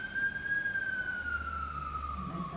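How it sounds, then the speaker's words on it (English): A siren wails steadily at a distance, its tone slowly falling as it passes, with faint traffic rumble underneath. "Let the siren go by."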